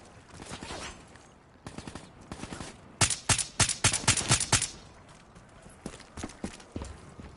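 Gunfire in the shooter Black Ops 3: bursts of rapid automatic fire, loud and close, with a strong volley in the middle and scattered shots before and after.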